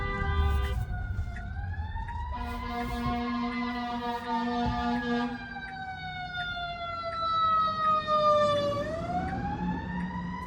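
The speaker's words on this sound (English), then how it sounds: "There is an emergency vehicle coming our way, so I'm going to disengage." An emergency vehicle siren wails loudly with rising and falling tones, heard from inside a Tesla driving on Full Self-Driving along a road, holding steady and swelling again as the vehicle approaches, over low road rumble.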